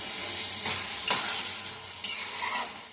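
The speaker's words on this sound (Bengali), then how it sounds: "এবার আমি এই কাজু কিশমিশটা, এই কাজু আমন্ড আর কিশমিশটা সব দিয়ে দেবো, দিয়ে সঙ্গে মিশিয়ে নেবো একটু ভালো করে।" Cashews, almonds and raisins stirred and fried in a pan for carrot halwa, giving a steady close sizzle broken by a few scraping strokes of a spoon, with no talking.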